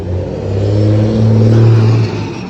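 A diesel vehicle revs loudly nearby while rolling coal, its deep engine roar swelling and holding steady for a couple of seconds before easing off slightly, with no voices.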